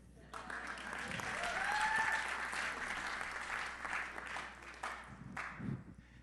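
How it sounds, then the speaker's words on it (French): Faint, moderate applause from a church congregation during a French-language faith sermon, with scattered clapping that swells and fades, a brief whistle-like tone, and some murmuring voices underneath. "Vous pouvez applaudir, c'est correct."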